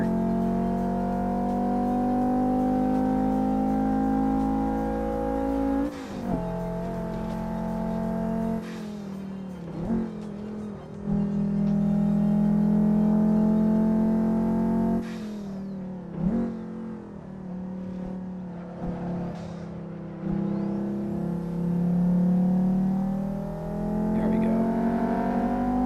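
Five-cylinder car engine in a truck and car driving simulator game, droning steadily with rising and falling revs across several gear changes, loud and continuous with brief dips between pulls.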